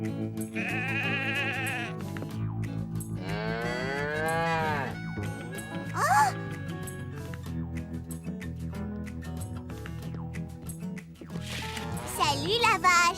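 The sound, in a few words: cow mooing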